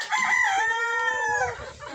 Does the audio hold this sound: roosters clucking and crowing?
yes